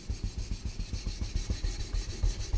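Blade sharpened on a Japanese waterstone with slurry built up on it, making close, wet, rhythmic grinding strokes in a quick, even back-and-forth pattern.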